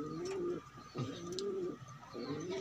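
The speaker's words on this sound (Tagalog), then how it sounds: "Tingnan natin yung kalapati natin kalapatids." Pigeon cooing close by, a few soft rolling coos repeated in a steady rhythm with faint birdsong behind.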